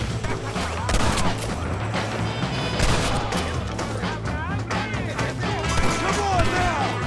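Gunfire in the video game Red Dead Redemption during a shootout, with a dense, continuous barrage of shots and impacts under shouting voices.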